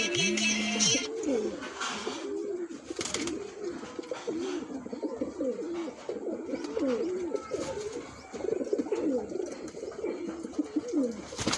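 Blue pigeons coo continuously in Islamabad, Pakistan, repeated soft rolling calls from several birds close by, with a few sharp clicks and rustles mixed in.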